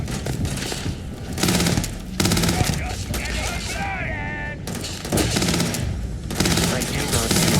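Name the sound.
Grendel rifle gunfire in the video game Starfield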